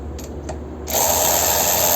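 A Keelat KRW003 long reach brushless ratchet wrench tightens a bolt: after two faint ticks, its motor starts with a bright, steady whirring buzz that continues close up to the end.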